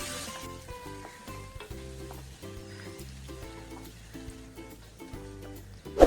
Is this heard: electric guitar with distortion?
no